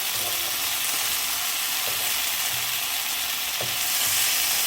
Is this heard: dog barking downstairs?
no